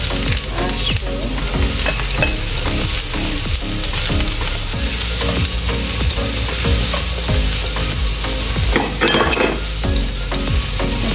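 Mushrooms sautéing in oil for chicken mushroom with oyster sauce, a loud continuous sizzle close up with frequent clattering stirs of a utensil against the pan.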